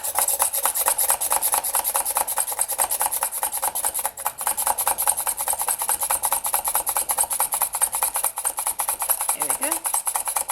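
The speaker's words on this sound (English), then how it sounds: "I'm using an automatic push drill here." Steady, close rasping and grinding of an automatic hand push drill boring through hard polymer clay from the resin side, continuous and uniform, with no voices.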